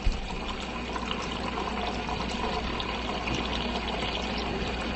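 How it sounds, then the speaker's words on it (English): Tap water pours into a pot of apples for homemade baby food, a steady rushing fill with constant splashing, close and continuous for several seconds. "And after we add them in, we add water to the pot."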